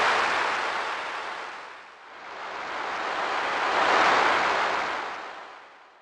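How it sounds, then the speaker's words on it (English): Synthesized seashore waves from a Donner DEP-20 digital piano swell and recede in two broad washes of hissing surf, loud and without any other sound. "Here's the seashore. You hear the waves coming in and going out."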